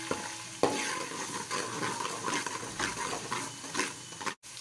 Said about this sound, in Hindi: अब हम इसमें डालेंगे लहसुन अदरक का पेस्ट, और उसको थोड़ी देर भून लेंगे।